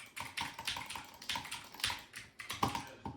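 Rapid clattering keystrokes on a computer keyboard while playing Fortnite, with dense, uneven bursts of clicks and brief pauses, close and fairly quiet, no talking.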